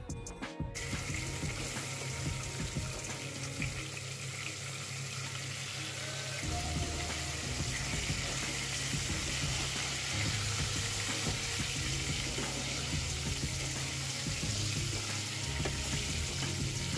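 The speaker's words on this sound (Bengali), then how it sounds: "শাটিন মাছগুলোকে আগে হলুদ নুন দিয়ে ভালো করে ভেজে নেব।" Satin fish fry in hot mustard oil with turmeric and salt in a kadai, giving a loud, steady, dense sizzle that runs unbroken throughout with no talking.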